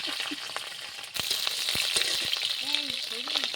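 Black cumin and green chillies hit hot oil in a pan, starting as a quiet hiss that jumps into a loud, steady close sizzle with scattered pops and a few clinks, while a voice speaks briefly.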